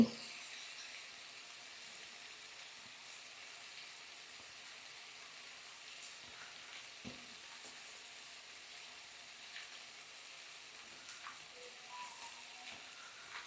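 Pieces of food fry in hot oil with a faint, steady sizzle and crackle that carries on evenly throughout, with no voices.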